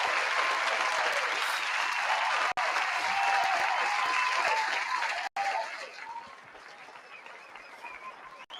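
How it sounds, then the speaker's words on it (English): A live audience gives a warm round of applause, dense and loud continuous clapping that holds steady, then drops to a softer, thinner level toward the end. "Let's go ahead and give that a warm round of applause."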